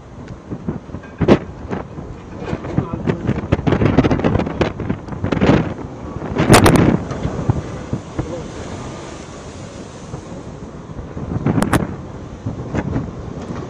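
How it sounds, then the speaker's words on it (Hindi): Strong gusts of Cyclone Biparjoy on the Gujarat coast roar and buffet the microphone in loud, uneven bursts with heavy rumbling wind noise throughout. "तेज हवाएं लगातार भी महाराष्ट्र के कई कोस्टल एरियाज में देखी जा रही है"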